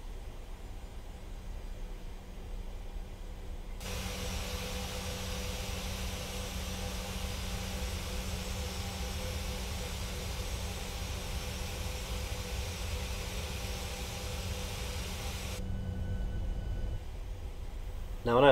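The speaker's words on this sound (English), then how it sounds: "We are taxiing." PMDG 737-800 airliner taxiing in Microsoft Flight Simulator: a steady, low jet engine hum and broadband rumble holding constant for most of the stretch, fairly quiet, beginning and ending abruptly, with no talk over it.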